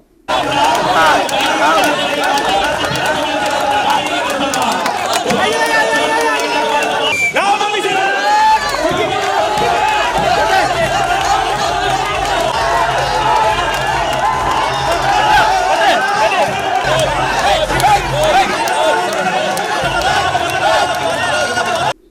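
A loud, dense crowd roars and cheers without a break at a police Onam tug-of-war match at Kasaragod district police headquarters, where teams led by the Collector and the SP pull against each other. Voices shout and babble throughout.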